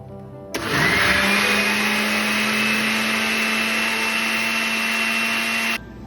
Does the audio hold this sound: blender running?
yes